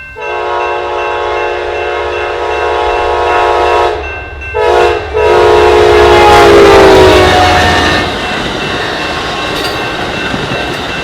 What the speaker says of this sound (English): Amtrak 23's horn still sounded decent.